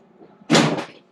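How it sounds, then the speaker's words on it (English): A power drill dropped onto a hard surface gives a single short, sharp clattering impact close by, alone in an otherwise quiet moment. "Drill dropped, obviously."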